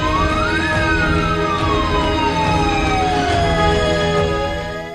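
An ambulance siren, on a car converted for Covid patient service, wails loud and close, sweeping up and down in long continuous cycles over traffic rumble.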